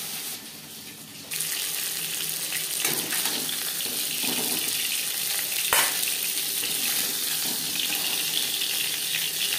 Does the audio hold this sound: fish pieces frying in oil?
yes